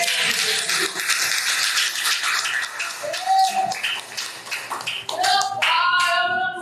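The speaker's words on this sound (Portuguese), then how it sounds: "dê uma linda salva de palmas ao nome" Church congregation clapping at an Assembly of God service, lively irregular claps and taps mixed with voices calling out, fairly close and loud.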